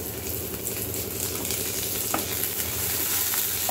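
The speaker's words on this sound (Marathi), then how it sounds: "आधी मी टमाटा टाकून टमाटाही कलसून घेईल" Onion and tomato sautéing together in a pan for a chole masala, a dense continuous close sizzle with quick stirring scrapes throughout, no voices.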